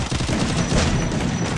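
Rapid gunfire in an online battle royale match, a loud, dense burst of overlapping shots and impacts with no pause across the short moment.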